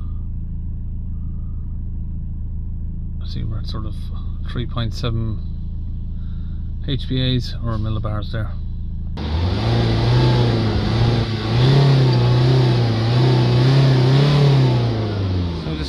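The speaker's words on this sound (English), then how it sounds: "let the engine idle down" A Saab 9-3 diesel engine runs at a steady idle close by during DPF cleaning, a low continuous rumble with someone speaking over it before the engine note rises and fills the sound.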